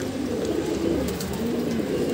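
A captured wild pigeon coos in low, soft, repeated murmurs, close by, over faint background noise.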